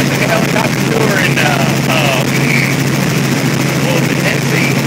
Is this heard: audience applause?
no